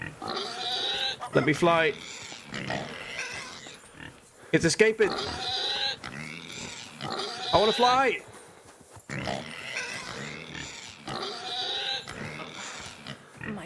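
A pig in the medieval game Kingdom Come: Deliverance II snorts and oinks in short bursts, close and loud, while someone talks excitedly over and between the grunts.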